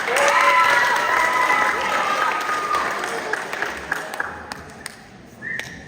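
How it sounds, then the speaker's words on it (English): Audience applause at a school Women's History program, a crowd clapping warmly with faint cheering, tapering into scattered claps, and a voice speaking over it near the end. "Let's give her another round of applause."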